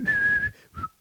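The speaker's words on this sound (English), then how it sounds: "That's the song he's whistling." A person whistles a short tune nearby, sustained clear notes broken by brief pauses, with low background rumble underneath.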